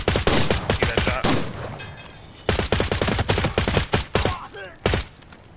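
Loud, close gunfire in Arena Breakout Infinite, with dense bursts and single shots in several clusters separated by brief lulls.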